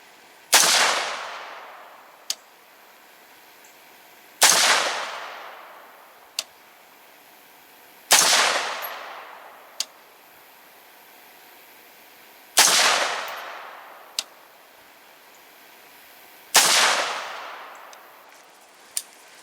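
Rifle shots from a 14.5-inch barrel fired in a braced group at a range, five loud sharp reports spaced about four seconds apart, each with a long decaying echo and a faint click between shots.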